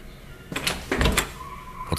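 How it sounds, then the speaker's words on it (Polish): An office door opens in an audio drama, a short creak and clunk of the door moving, followed by a couple of brief knocks or thuds, heard close and alone without any talk. "Otworzyły się drzwi gabinetu"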